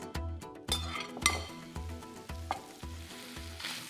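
Onions hit a hot, smoking skillet for a steak sandwich and sizzle steadily, with repeated low thuds and light metallic clinks of stirring throughout.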